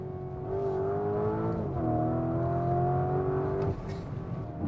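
A Lamborghini Urus SE hybrid super-SUV revs as it drops down through the gears on an Italian road, its engine note rising and falling with each downshift, heard clearly from a moderate distance without talk.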